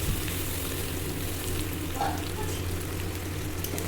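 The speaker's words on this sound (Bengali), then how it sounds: "এবার দেবো টমেটো আর কাঁচা লঙ্কা যে পেস্ট করেছি ওটা দিয়ে দিই" Tomato and green chili paste frying with ginger in a pan for a vegetarian dhoka dish gives a steady, dense sizzle that runs without a break from start to finish.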